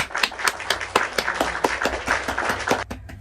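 A small audience claps at a casual talk show, a sparse, uneven scatter of individual hand claps with distinct sharp strikes rather than a dense roar, lasting about three seconds.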